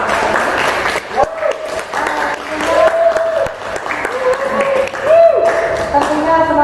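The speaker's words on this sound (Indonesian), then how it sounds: "Dan boleh kita beri aplaus yang meriah." Applause from an audience at a Pramuka scout anniversary gathering, sustained clapping under a loud voice over a PA.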